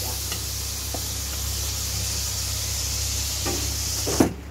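Tomato puree sizzling steadily in a hot pan while preparing Kashmiri biryani, a continuous close frying hiss with a few soft stirring scrapes and a sharper clatter near the end.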